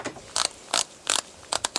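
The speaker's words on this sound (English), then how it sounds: "I'm trying to limit the amount of torque I apply to this by using tiny little 1/4 inch drive socket wrench" A tiny 1/4 inch drive socket wrench ratchets while a side mirror is fitted to a car, giving five short, close clicking bursts with brief pauses between them.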